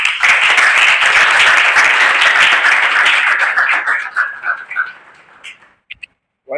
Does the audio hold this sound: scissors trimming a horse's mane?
no